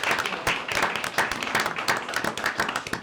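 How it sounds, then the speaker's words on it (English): A round of applause at a city council meeting in Gaithersburg, a modest group clapping with distinct uneven pulses, fairly close and short-lived. "give Mike a round of applause."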